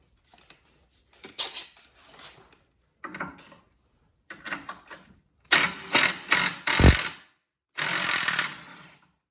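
A 9/16 wrench working a castle nut off the front ski bolt of a high-mileage, salt-worn Polaris Indy snowmobile, heard as bursts of close ratcheting clicks separated by pauses that grow longer and louder toward the end.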